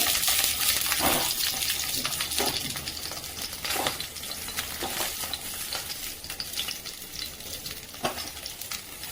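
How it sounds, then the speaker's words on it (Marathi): Continuous sizzling and crackling from eggplant roasting in a hot wok, close up, with scattered sharp taps and scrapes and no one speaking. "आपण कढईमध्ये आज वांगे भाजायला ठेवत आहोत"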